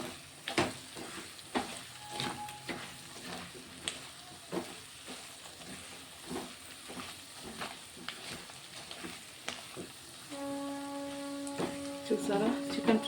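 Spicy chicken fries and is stirred in a pan, a soft sizzle broken by frequent scraping and clinking strokes. A faint tonal hum rises near the end.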